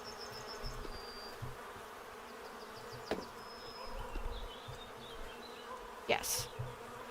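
Bees buzz around a beehive during beekeeping, a faint, intermittent drone of insects passing near over a soft background hiss, broken by a couple of sharp clicks.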